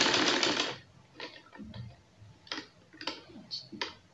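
A sewing machine stitches a chikan trouser in one short loud burst at the start, then falls quiet apart from a few soft mechanical ticks and clicks close by.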